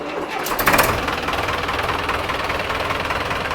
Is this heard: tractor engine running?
yes